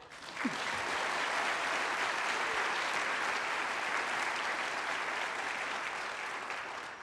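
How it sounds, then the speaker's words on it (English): An audience at a NASA mission update event breaks into sustained applause, swelling quickly to a broad, even wash of clapping that holds steady and eases slightly at the end. "We can clap for that."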